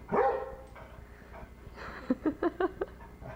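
Two pet dogs bark in a quick burst of sharp yips and whimpers close by in a home, after a brief louder cry at the start, with no talking.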